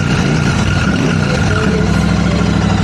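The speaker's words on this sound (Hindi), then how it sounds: "अरे बाइक तो स्टार्ट करो यार, कोई बाइक तो स्टार्ट करो" A Royal Enfield Super Meteor 650 motorcycle with stock exhaust runs loud and close, a steady thumping engine drone with slight rises in pitch, no voices over it.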